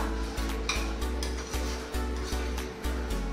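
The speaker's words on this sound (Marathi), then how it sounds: "मिश्रण आपले व्यवस्थित भाजून घ्या" Idli podi spice mixture is dry-roasting in a pan, stirred with steady rhythmic scrapes about twice a second over a constant low hum of the stove.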